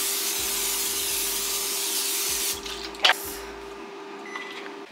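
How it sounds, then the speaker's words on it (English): A spray bottle hisses in a few short bursts over food being seasoned with curry and turmeric during home meal prep, with faint kitchen clatter and no voices. "Spray it all down."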